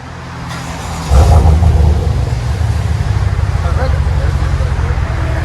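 A GMC Sierra Denali with a 6.2L V8 and a Flowmaster FX muffler idles with a deep, steady exhaust rumble close by, swelling into a brief rev before settling into a loud, even drone, with speech over it.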